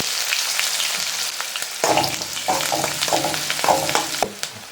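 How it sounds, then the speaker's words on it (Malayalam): Thinly sliced small onions sauté with curry leaves in hot oil in a pan, sizzling steadily while a utensil stirs them in several distinct scraping strokes, close and clear with no talking. "ഇനി ഉള്ളി ഒന്ന് നമുക്കൊന്ന് മൂപ്പിച്ചെടുക്കാം"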